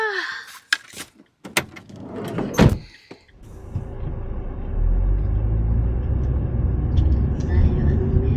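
Car door clunks and brief movement sounds are followed by a car engine settling into a loud, steady low rumble that runs continuously to the end, close by.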